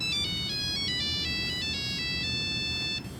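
A phone ringtone signals an incoming call, a bright repeating electronic melody of high tones that plays loudly and alone for about three seconds over steady background hiss.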